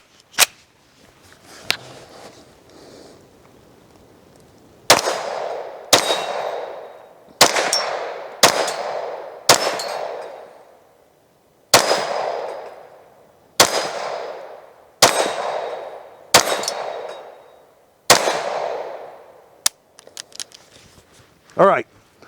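A Kel Tec Sub2K rifle chambered in 5.7 fires about ten loud, sharp shots outdoors at a deliberate, uneven pace, each crack ringing off steel targets with a short decaying echo.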